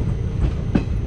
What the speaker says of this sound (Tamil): ரயில் கிளம்பி விட்டது.